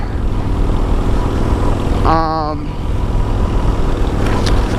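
A Honda Goldwing motorcycle being ridden, a loud constant engine drone mixed with heavy wind rush, with a brief tonal whine or voice-like warble rising midway.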